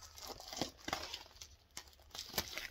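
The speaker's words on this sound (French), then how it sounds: "Donc on va déballer ça tout de suite" Unwrapping a 4K steelbook Blu-ray package, heard as quiet, close bursts of crinkling plastic film and a few sharper tearing rips at irregular intervals, with no talking.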